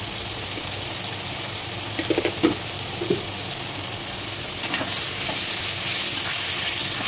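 Poha mixture cooking in a pan after turmeric and salt are added, with a steady soft sizzle and a few scraping stir strokes near the middle, growing slightly louder toward the end.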